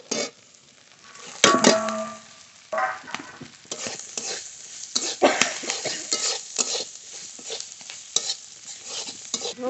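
Metal spatula scrapes and stirs prawns that were fried beforehand into a turmeric and salt spiced masala in a pan. Close, irregular clattering strokes ride over a soft, steady sizzle, with no talking.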